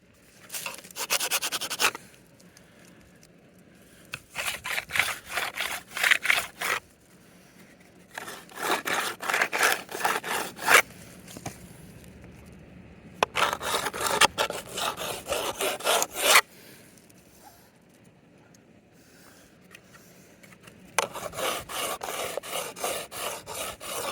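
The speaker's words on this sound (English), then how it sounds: "for inside the hood, I might have to do like sandpaper work" Sandpaper rubs inside the hood of a small model car in several separate bursts of quick back-and-forth scratching, close and fairly loud, with quiet gaps between strokes and no talk.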